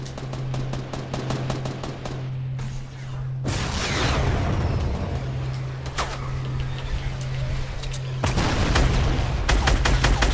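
Rapid bursts of rocket and gunfire in a Fortnite match, loud and close, with repeated sharp blasts and a steady low hum between volleys, no talking.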